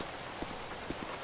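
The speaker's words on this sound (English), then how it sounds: "Nice little rain." Light rain falls in a dry area, a steady soft patter spread evenly through the clip, with a couple of slightly louder drops standing out and no voices.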